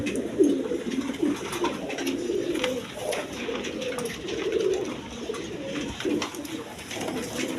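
Pigeons coo steadily in low, throaty rolls, several birds overlapping close by with a constant murmur of cooing throughout.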